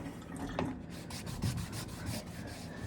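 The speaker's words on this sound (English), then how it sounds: "take one of these dressing stones that comes with a Naniwa Chaucera and just give it a sanding" Rhythmic back-and-forth sanding of a leather barber's strop with a dressing stone, a dry rasping rub repeated steadily at close range.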